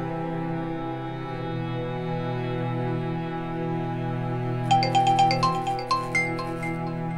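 A phone rings unanswered: a short run of bright, rhythmic melodic tones cuts in over a steady low droning hum and stops after about two seconds.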